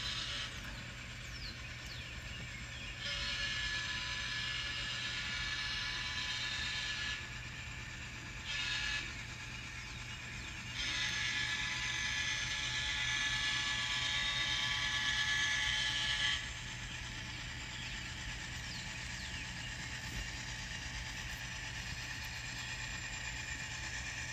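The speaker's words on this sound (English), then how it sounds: "So here comes the train through Douglas Avenue." A small model train whirs and clicks steadily along its layout track, controlled through JMRI software, quiet and mechanical, growing louder in stretches before fading back.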